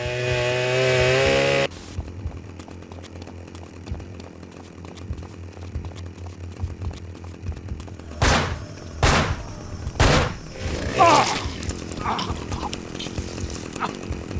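A chainsaw in the Manhunt video game, heard as a grinding mechanical snarl with several loud bursts of revving and impact over a low, steady game soundscape.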